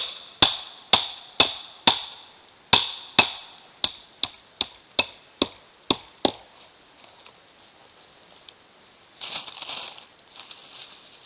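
Sharp hammer blows drive a nail into a handmade wooden capercaillie trap outdoors, about fourteen crisp, ringing strikes in a steady run, then a pause and faint scuffling near the end.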